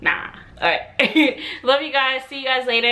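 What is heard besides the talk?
dog barking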